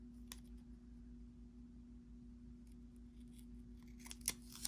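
Scissors make a few quiet snips through the clear edge of a planner sticker, faint against a low steady hum, with a sharper crisp cut at the end.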